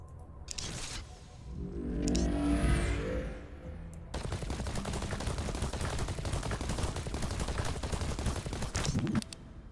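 Bursts of gunfire from a pistol in a chaotic video game, with a sustained rattle of rapid shots filling most of the stretch after an earlier quieter passage of game sounds.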